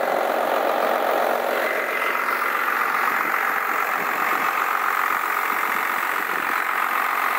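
A pre-smog Cummins 5.9L 12-valve diesel in a 4x4 truck with 160k miles idles close by, a steady, even clattering drone with no speech over it.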